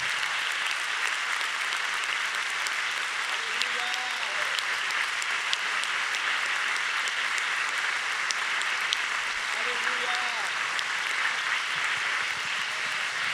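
A church conference crowd applauds for Jesus, a dense, sustained wash of clapping lasting the whole stretch, with faint voices and cheers mixed in.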